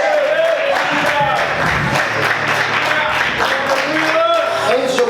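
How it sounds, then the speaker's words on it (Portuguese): Church congregation clapping and praising during an evangelical service, steady loud applause mixed with voices and a sustained tone underneath, continuing throughout. "Você pode aplaudir e exaltar a Deus, aleluia. Aplauda o Senhor, querido."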